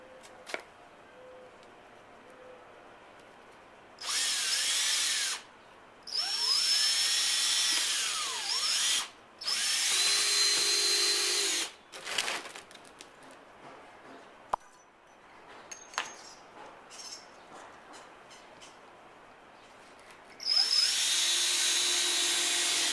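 A power drill driving screws around the rim of a homemade spinning compost bin made from a plastic barrel, securing the top to the bottom: several loud whirring bursts of a few seconds each, separated by quiet pauses, with no talking.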